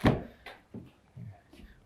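Car door of a Mercedes-Benz GLA 200 AMG Dynamic swung open up close, a sharp latch click followed by a few softer thuds and clunks in quick succession.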